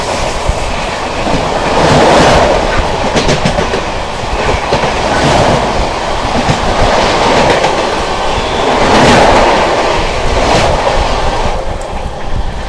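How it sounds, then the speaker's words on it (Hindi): The 15632 Guwahati–Barmer Express approaches on the railway with a loud, steady rumble and rhythmic clickety-clack of wheels rolling past close by, and no voices. "सामने से आती हुई 15632 गुवाहाटी बाड़मेर एक्सप्रेस आती हुई दोस्तों"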